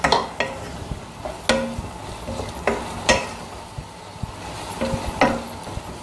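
Fried bitter gourd stirred into sambar masala in a pan: a spoon scraping and tapping against the pan at irregular intervals over a soft, steady sizzle.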